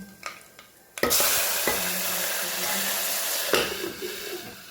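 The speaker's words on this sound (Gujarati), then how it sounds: "રાઈ થઈ જાય એટલે એમાં જીરું એડ કરીશું" Cumin and mustard seeds sizzle in hot oil in a pan, a sudden loud crackling hiss after a brief quiet start, continuing steadily with small pops and stirring scrapes.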